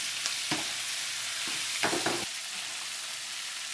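Squid stir-frying in a pan with hoisin sauce, a steady close hiss of sizzling oil broken by a few scraping stirs of the utensil, with no talking.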